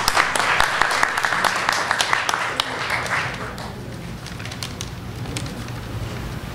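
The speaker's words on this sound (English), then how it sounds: "So round of applause for each one." Applause from an audience at a Hindu Heritage Month celebration held at ISKCON Brampton, Canada: dense clapping for about three seconds, then fading into a quieter room murmur.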